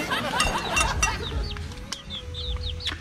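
A chicken clucks in short, quick calls close by, mixed with other bird chirps and a low background hum, with a brief crowing-like note in between.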